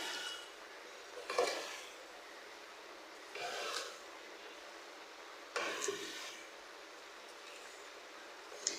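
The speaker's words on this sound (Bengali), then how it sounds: "আমি ভালোভাবে নেড়ে চেড়ে নেব" Pumpkin leaves with chopped garlic and salt stirred in a frying pan, three scraping stir strokes spaced a couple of seconds apart over a low steady background.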